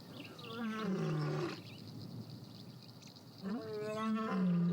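Two powerful roars from a male lion in the wild, each a deep, grunting bellow lasting over a second, separated by a pause filled with a faint insect-like buzz, close and loud with no voices.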